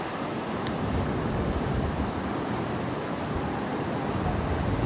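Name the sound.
rough sea waves crashing on Rabat beach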